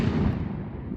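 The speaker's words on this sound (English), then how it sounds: "Pyroland strobe rocket." A Pyroland strobe rocket firework launched outdoors on a reservation, giving a loud, continuous low rumbling burst that fills the whole moment and fades slightly toward the end.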